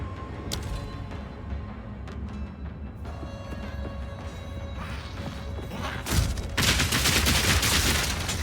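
A rapid-fire attack from Path of Exile 2, rendered as a string of sharp gunfire-like bursts and crashes that grow denser and louder toward the end, with no talking.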